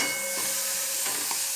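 Spices, turmeric and masala sizzle in a pan with a splash of water while being cooked down, a close, steady frying hiss with faint stirring scrapes, brief and without talk.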